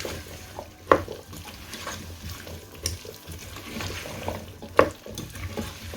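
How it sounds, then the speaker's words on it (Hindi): Chopped potatoes frying in a pan for aloo anday ki bhujia, a steady low sizzle with occasional sharp clinks of a spoon stirring against the pan. "और इनको हम 2 मिनट के लिए हम इनको फ्राई करेंगे।"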